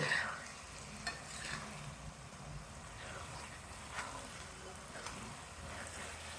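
Pumpkin halwa cooking in ghee over high heat in a pan, a soft continuous sizzle with a few stirring knocks, fairly quiet and steady throughout.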